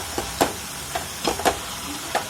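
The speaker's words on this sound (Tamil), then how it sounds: "இப்போ கீரை நமக்கு நல்லா வதங்கிடுச்சு" Palak keerai (spinach) sautés uncovered in an open pan: a faint sizzle is broken by a handful of sharp, irregular stirring scrapes and clicks, close and fairly quiet.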